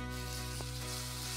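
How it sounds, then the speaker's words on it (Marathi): Potato sizzling steadily in a hot cumin and mustard seed tempering, a constant faint frying hiss with no talk over it. "फक्त 2 मिनिट आपण हे परतून घेतो."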